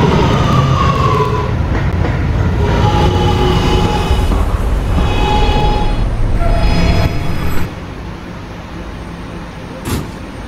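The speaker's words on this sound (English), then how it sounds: "This is an 86th Street bound R train." An R211A subway train runs along the tracks in a Roblox game, with a steady rumble and rattling wheel noise and faint rising motor whines, easing to a quieter roll near the end.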